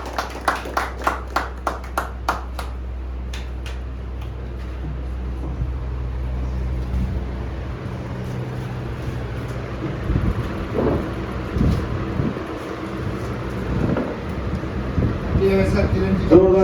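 Applause at a corporate annual function: a burst of rhythmic clapping in the opening seconds, then a steady crowd din with voices and scattered claps continuing under the hubbub.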